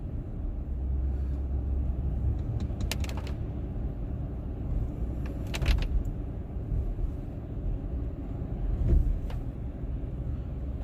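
A car drives slowly along roads the morning after an ice storm, a steady low engine and road rumble from inside the cabin with a few faint clicks and knocks.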